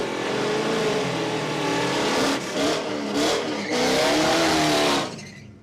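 A Mustang and a Polara drag racing at a raceway, engines roaring loud and close with rising revs, a few gear changes and a sustained wail before fading out at the end.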